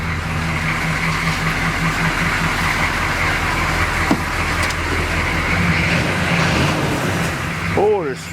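A Chevy squarebody truck with a 6.2 engine and newly fitted mufflers idles steadily nearby, a low rumbling drone throughout with a brief higher whine near the end.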